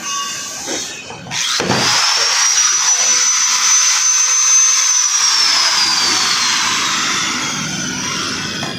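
A repaired angle grinder switched on after a click, spinning up into a loud, high, steady whine that holds for several seconds and then slowly winds down in pitch, heard alone and close.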